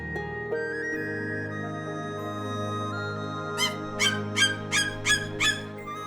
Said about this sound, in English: Yes, that's a majestic eagle.